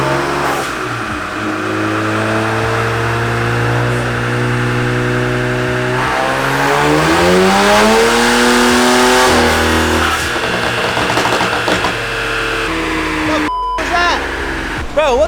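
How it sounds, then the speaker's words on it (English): A BMW 335i with budget performance mods runs hard on a dyno, its engine note climbing and falling loudly while it misfires and stumbles near the end, with people talking over it. "We got a misfire."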